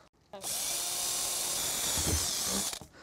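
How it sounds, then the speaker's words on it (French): A power drill bores a drainage hole in a garden plant pot, whining steadily and loudly for about two seconds after a short click, then spinning down, with a brief grinding dip midway. "Il s'agit d'un pot qui ira dans le jardin, nous devons le percer pour l'évacuation de l'eau"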